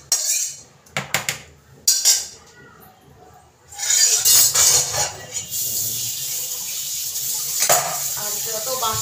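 Dishes, pots and utensils being washed by hand, with scattered clinks and clatters of metal and crockery, then a steady stream of running water and scrubbing in a home kitchen.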